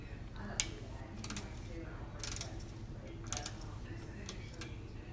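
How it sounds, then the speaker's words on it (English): A small ratchet with a Phillips bit backing a screw out in a tight spot on a KitchenAid Jenn-Air dual fuel range gas valve, faint close ticking clicks in short irregular bursts over a low steady hum. "A little ratchet with the Phillips head on it."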